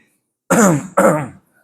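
Two firm throat-clearing rasps come back to back from a close speaker, loud against otherwise silent surroundings.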